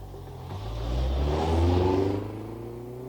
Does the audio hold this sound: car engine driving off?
yes